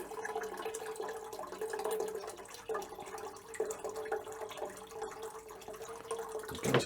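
Water being run through beer lines during cleaning, a soft continuous gurgling rush with dripping and splashing into a jug, faint and close with slight surges.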